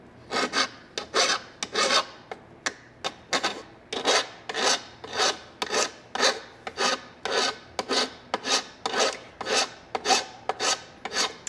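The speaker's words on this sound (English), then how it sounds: "I might have more filing to do after I get done bending this" Metal file shaping a piece for a hollow form ring, about two dozen close, regular rasping strokes in a steady back-and-forth rhythm with short gaps between them.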